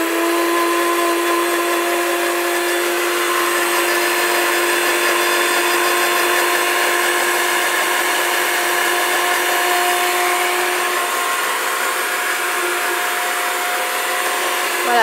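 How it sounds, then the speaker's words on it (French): A kitchen blender runs steadily, blending hemp milk with fresh mint and honey; a loud, continuous whirring motor hum holds an even level throughout with no pauses. "C'est reparti pour le mixeur."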